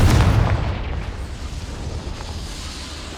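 A Confringo spell blast in Hogwarts Legacy gives a heavy, close explosion at the very start, then fades into a long rumbling tail with no talking.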